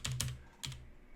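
A few quiet, close keystrokes on a computer keyboard while typing a URL, three short clicks spaced across about a second.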